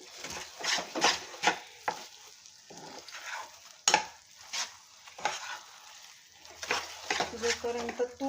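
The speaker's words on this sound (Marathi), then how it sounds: "जोपर्यंत तूप सुटत नाही तोपर्यंत आपल्याला हे असंच हलवत राहायचं एकसारखं." Mysore pak mixture with ghee being stirred in a pan, repeated scraping strokes of a spoon against the pan over a soft sizzle, close and fairly quiet with brief pauses between strokes.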